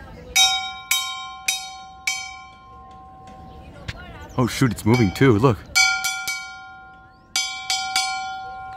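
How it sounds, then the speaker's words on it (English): A disused steam engine train's bell rings in a handful of clear, sharp metallic strikes with long ringing tails, in spaced groups, while a person speaks briefly partway through. "Ring a bell on a train that is no longer being used."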